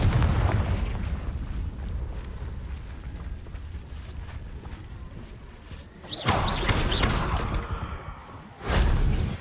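An explosive fire spell from the Hogwarts Legacy video game bursts with a loud whooshing blast, followed moments later by a second sharp explosion over a steady rumble of game ambience.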